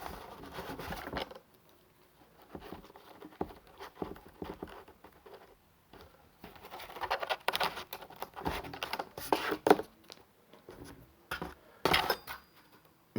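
Loctite Double Bubble two-part epoxy being mixed up for a repair, heard as soft, irregular ticking and scraping taps of a small stirring tool, close and faint, with brief pauses between flurries.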